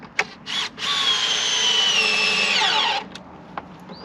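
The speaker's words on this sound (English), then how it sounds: "Another reason we pre-drill, saves the driver's battery a little bit." A cordless driver sinks a big screw into pre-drilled wood with one sustained whirring run that drops in pitch as it bogs down under load, framed by short clicks and trigger bursts, close and loud.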